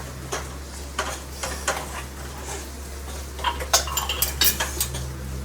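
Dishes, pots and cutlery being washed in a home kitchen, with scattered metallic clinks and clatters at an uneven rhythm, growing busier and sharper toward the end over a low steady hum.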